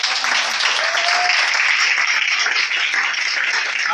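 A church congregation applauds with dense, steady clapping that holds an even level throughout, loud and close with a faint voice briefly audible within the crowd.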